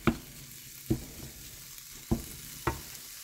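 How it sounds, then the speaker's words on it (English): Food being chopped and stirred in a sizzling pan with a Pampered Chef chopper: four distinct clacking knocks at irregular intervals over a quiet, steady frying hiss. "So I've been chopping for about 3 minutes and it's pretty well mixed in now"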